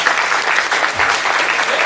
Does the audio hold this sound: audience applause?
yes